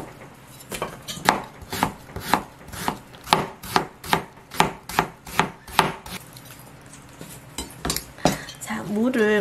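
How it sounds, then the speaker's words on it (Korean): A knife slices a large radish thinly on a board, with about a dozen crisp, evenly spaced chops in a steady rhythm, close and clear, with a brief voice at the end. "얇게 썰어줍니다."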